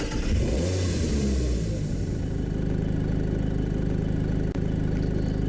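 A car engine runs loud and steady close by, a rough low rumble that rises as it revs, with no voices over it.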